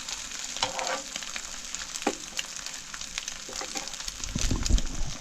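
Food sizzles steadily in a hot pan with worn, peeling coating aboard a yacht, a continuous crackling hiss with a few sharper pops and a louder burst of sizzling near the end.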